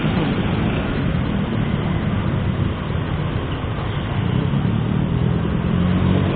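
Motorcycle engines droning and revving together at the start of a night ride with a group of riders in Bandung, a loud continuous roar that swells slightly, heard close.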